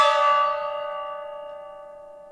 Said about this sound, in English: our first basketball gong hit of the night